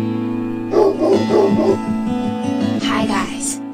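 A dog resting after a jog gives a few short barks and yips, moderately loud, set against a steady background hum and a voice speaking.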